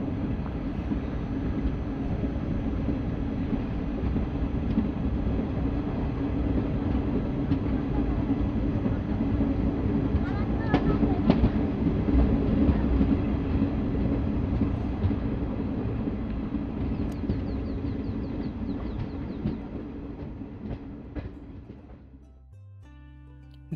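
The Malda Town–Howrah Intercity Express runs on the rails with a continuous rolling rumble and faint clatter. The noise holds steady, then thins and fades away near the end.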